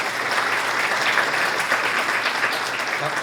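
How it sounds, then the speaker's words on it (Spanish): Loud, steady audience applause fills the room at a business talk on attracting investors and raising capital in Ecuador, sustained clapping from many hands with no voices on top. "Un fuerte aplauso y vamos pues con Emanuel."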